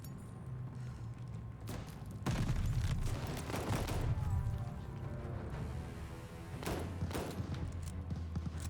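Gunfire in Call of Duty: Vanguard, heard as a few quiet, separate bursts of shots and thuds against a low, steady game background.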